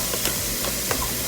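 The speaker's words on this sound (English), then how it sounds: "since you love the sound of that sizzle." Soft crackling sizzle of stir-fry noodles frying in a pan, steady and close, with a few faint clinks of a utensil.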